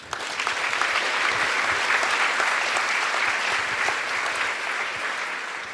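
An audience at a university leadership event applauds to thank two speakers, a dense, sustained round of clapping that swells quickly and holds steady before easing slightly.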